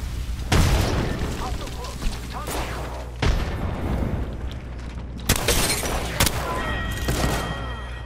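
Airstrike explosions in Apex Legends, a string of loud booming blasts and crackling gunfire bursts rolling in at close range, several heavy impacts spaced a second or two apart.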